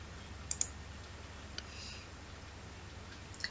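A computer mouse clicks quietly a few times, with a quick double click and then single clicks spaced out, while someone logs in on a website in a quiet room.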